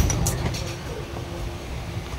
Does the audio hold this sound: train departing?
yes